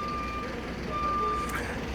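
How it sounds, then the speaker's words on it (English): A large vehicle reversing at a bus station near Jerusalem's Garden Tomb gives steady, evenly spaced electronic beeps over a constant background of traffic and crowd noise. "You can hear the bus station."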